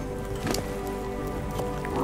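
Steady rain falling in the video game Ark Survival Ascended, a soft continuous hiss of drops on surfaces with a few slightly louder patters, heard alone without talk.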